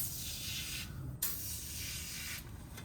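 Battery cleaner sprayed from an aerosol can onto a battery plate of a mini truck, a steady soft hiss in two pressurised bursts with a brief click between them.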